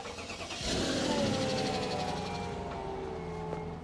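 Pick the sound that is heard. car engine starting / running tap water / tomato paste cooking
car engine starting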